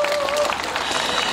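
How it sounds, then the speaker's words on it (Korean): Audience applause at an outdoor song festival concert in Changwon, a dense, steady burst of clapping from a crowd, heard up close throughout. "다시 한번 박수요."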